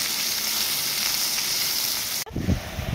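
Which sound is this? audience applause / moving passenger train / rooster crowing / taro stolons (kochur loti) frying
taro stolons (kochur loti) frying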